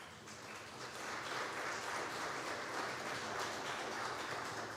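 Steady applause from an audience at a congregational church meeting, a dense continuous wash of clapping that swells after the first second and holds evenly throughout.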